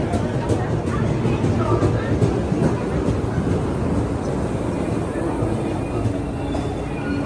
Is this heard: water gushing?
no